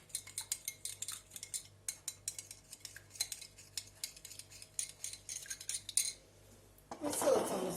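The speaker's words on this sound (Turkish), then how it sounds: "Güzelce karıştırıyorum." A spoon stirs and scrapes through a green lentil salad in a bowl, giving a rapid series of close clinks and taps that stops briefly before a louder rustling scrape at the end.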